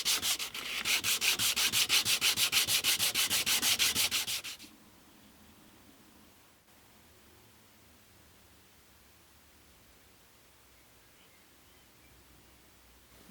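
Rapid back-and-forth rubbing of 240 grit sandpaper on a guitar fretboard for an acoustic guitar build, a loud rhythmic scratchy hiss for about four seconds, then near silence.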